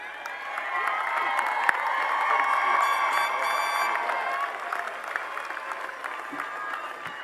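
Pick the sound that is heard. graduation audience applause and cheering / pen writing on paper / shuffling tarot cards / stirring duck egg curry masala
graduation audience applause and cheering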